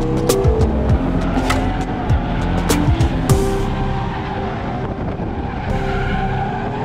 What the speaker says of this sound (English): Now it's getting really shaky because I'm driving on a bad road.